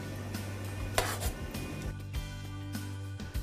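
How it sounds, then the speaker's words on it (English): A spoon scrapes and knocks around a pot as olive oil is stirred into tomato sauce with Sicilian seasoning, giving soft irregular clinks and rubs over a steady low hum. "And stir to combine."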